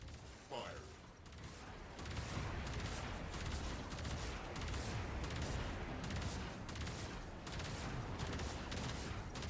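Railjack torpedoes launching in the space combat game Warframe: a steady, dense roar of firing and booming blasts that holds loud and constant for several seconds after a brief softer start.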